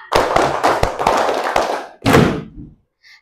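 A classroom of students claps on command, a quick ragged series of sharp hand claps followed by one dense burst, close and fairly loud, then silence.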